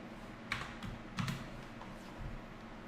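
Computer keyboard typing in a quiet room, a few sharp separate key clicks close by with short pauses between them, fairly faint and with no voices.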